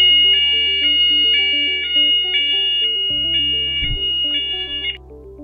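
A C-TEC Hush Pro fire alarm system goes to fire level 2, giving a steady pulsing electronic alarm tone in regular beats, joined partway by a lower buzzing layer and a short thump, with no talking.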